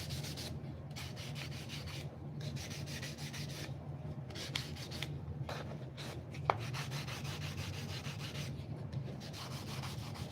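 A wooden box lid is rubbed by hand with 400 grit sandpaper in steady back-and-forth strokes, a soft, close, rhythmic scratching with brief pauses between passes.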